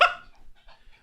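A dog gives a single short, sharp bark up close, followed by faint soft whimpering noises in an otherwise quiet indoor setting.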